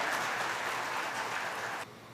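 An audience at a spiritual discourse claps in a brief, modest round that cuts off abruptly near the end.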